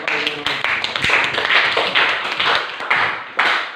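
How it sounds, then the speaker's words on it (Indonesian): A classroom claps together, a brisk close burst of many hands with sharp individual taps and a few voices mixed in. "Beri aplaus"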